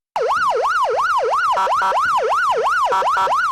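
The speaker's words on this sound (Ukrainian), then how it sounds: "увімкнути сирени патрульної поліцейської автівки" A loud wailing police patrol car siren sweeps up and down in steady, rapid cycles, continuous and close, with no other sounds.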